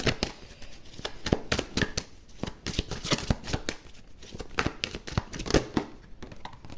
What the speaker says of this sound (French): Alors je vais prendre une deuxième carte.